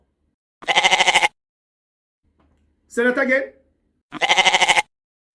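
A caller imitates a goat's bleat on a radio call-in show, two loud, wavering vocal bleats separated by a short burst of ordinary speech.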